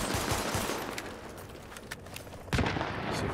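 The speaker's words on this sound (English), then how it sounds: "I'm shooting at windows over here." Gunfire in the video game The Division as windows are shot out, with dense rapid bursts of shots throughout and a sharp, louder shot near the end.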